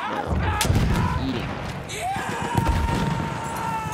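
Gunfire in a sniper video game: a dense, continuous barrage of shots and booms throughout, with a few sharp reports standing out.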